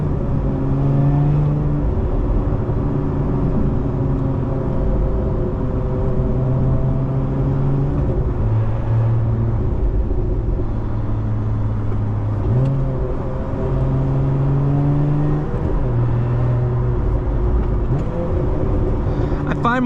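A 2024 Lotus Emira First Edition V6 with a manual gearbox, heard from inside on a test drive: a loud, steady engine drone that climbs and falls as the revs rise and drop with repeated gear changes.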